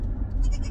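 A dairy goat bleats once, close and clear, a brief nasal cry over low background rumble.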